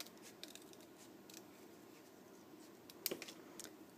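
Scissors cutting through paper for a card-making craft, faint repeated snips and rustles close by, with a sharper cluster of cuts near the end and no talk.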